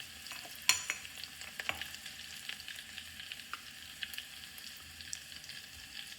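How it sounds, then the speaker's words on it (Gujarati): Dried garlic and pepper hit hot oil as a tempering for a village-style chana dal curry, giving a steady crackling sizzle with scattered sharp pops and stirring scrapes, close and moderately quiet, without speech. "આપણું તેલ કમ્પ્લીટલી ગરમ થઈ જાય તરત આપણે વઘાર એડ કરીએ. સૂકા લસણ અને મરી જે ઝીણું કર્યો હતો તે."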